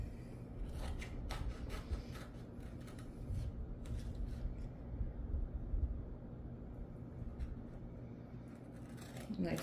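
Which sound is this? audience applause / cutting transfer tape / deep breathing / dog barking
cutting transfer tape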